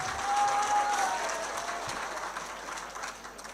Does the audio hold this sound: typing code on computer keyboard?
no